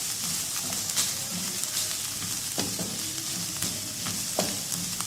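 Vegetables for a chicken bread filling sizzle in a hot pan with a constant frying hiss, broken by occasional clicks and scrapes of stirring.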